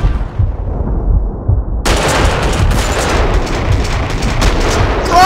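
Gunfire in a shooter video game: loud, rapid bursts of shots and booming impacts crackle continuously over a low rumble, with a sudden jump in intensity partway through.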